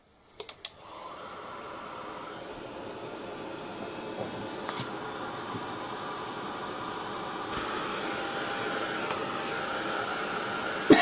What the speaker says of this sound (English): I'm going to give that a blast with the heat gun because I want it to dry